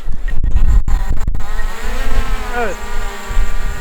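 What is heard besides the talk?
drone taking off in automatic takeoff mode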